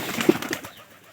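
A pigeon gives one short, soft coo up close in a quiet setting, fading out after the first half-second.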